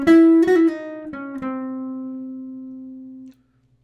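A short bebop line of sustained pitched notes, a triplet and chromatic steps rising toward the flat nine, played alone and fairly close, ending on a long held tone that fades out.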